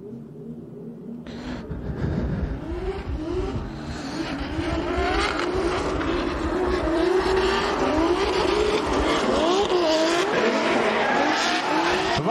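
Drift cars at the Venetsia Drift 2021 event race with screaming engines and repeated tire squeals, a loud continuous roar close by that rises and falls as the cars slide through the course.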